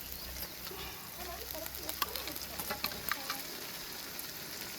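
Boiled goat tripe sizzles steadily in a pan, a soft continuous crackle with occasional small pops and stirring clicks, fairly quiet and heard alone.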